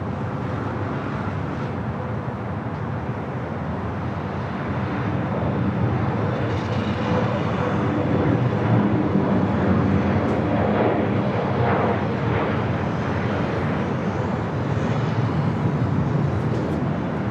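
Jet airliner engines at LAX as a Boeing 747 taxis along the taxiway, a continuous broad roar and whine heard from a distance, steady throughout with no talking.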